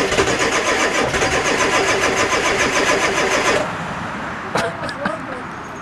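A 7.3 Powerstroke diesel in need of glow plugs cranks on a cold day in a loud, rhythmic starter grind for about three and a half seconds. It then stops, followed by quieter clicks and faint talk.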